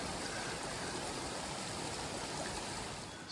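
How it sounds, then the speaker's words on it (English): Lefroy Brook, a stream along the Bibbulmun Track, flows steadily and softly, an even broadband rush of running water heard alone throughout. "This is a particularly pretty section along Lefroy Brook."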